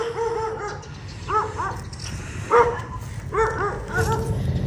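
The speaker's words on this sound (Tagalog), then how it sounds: "Naririnig nyo may mga aso." Several dogs bark in short clustered bursts, some yelping and whining, over a steady low rumble of background noise, moderately distant, among flooded abandoned houses in Bulacan, Philippines.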